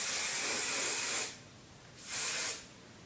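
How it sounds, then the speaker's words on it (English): Kevin Murphy Session Spray firm-hold hairspray misting from an aerosol can, two close hissing sprays, a long one over a second followed by a shorter burst after a brief pause. "finish off with some hairspray"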